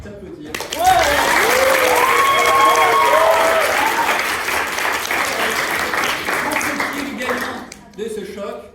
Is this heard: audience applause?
yes